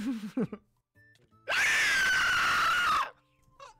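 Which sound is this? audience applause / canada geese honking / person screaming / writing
person screaming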